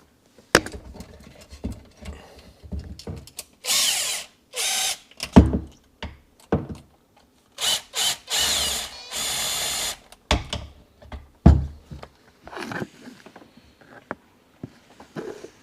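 A power tool tightening down a part on a Seadoo 4Tec, loud whirring bursts of a few seconds each separated by pauses and small clicks.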